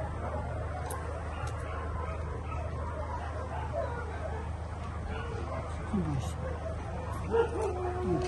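A dog whimpers and yips softly amid low background noise and voices, the small whines growing a little more noticeable toward the end.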